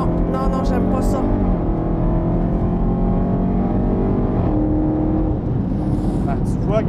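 A car brakes and accelerates on a racetrack, its engine note rising and falling continuously and loudly throughout, with a French-speaking voice talking over it.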